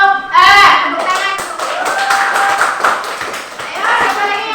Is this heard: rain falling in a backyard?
no